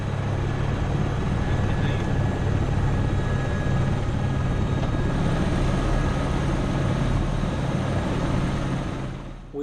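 A loud, continuous helicopter drone with a steady low rotor thrum and engine whine, close by, landing near a rice paddy wall, fading slightly at the end.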